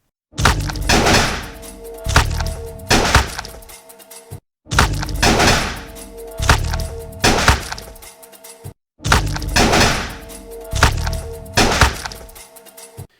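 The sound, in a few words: gunfight sound effects for a visual effects composite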